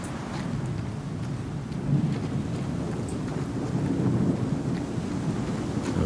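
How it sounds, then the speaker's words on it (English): A brutal thunderstorm in the video game Star Citizen: steady heavy rain hisses throughout while deep thunder rumbles swell and roll underneath, loud and continuous with no talking. "These storms are pretty brutal."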